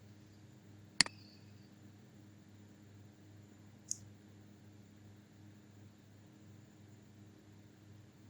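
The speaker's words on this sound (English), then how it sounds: "Click these three dots, toggle timestamps and then select the whole thing." Two separate computer mouse clicks, a sharp one near the start and a fainter one a few seconds later, against a quiet hum with no talking.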